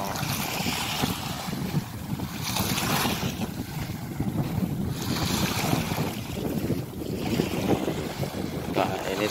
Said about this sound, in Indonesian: Oh, itu kapal saya guys ya.